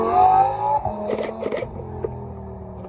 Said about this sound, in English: That's loud. McLaren. 570 GT.